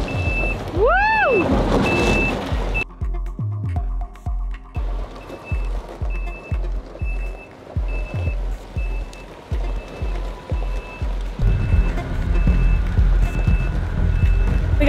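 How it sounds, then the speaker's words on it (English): A truck loaded with roof trusses backs into a residential driveway, its reversing alarm beeping steadily and evenly under a continuous engine rumble, with a louder whine early on and a brief air-brake hiss. "We got the truck in the driveway."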